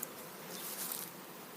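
Honey bees buzz at a hive in an apiary with a hive scale, a soft, steady hum close by with no talking, fairly faint throughout.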